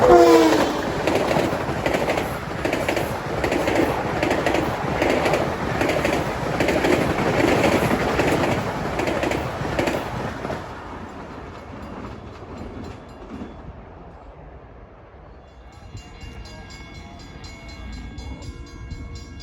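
An eastbound Long Island Rail Road train rushes past the New Hyde Park Road crossing during evening rush hour with a loud, close rumble of wheels and cars, then fades away, leaving quieter ambience with birds chirping.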